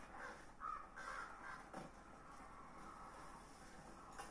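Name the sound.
crows cawing in the video game God of War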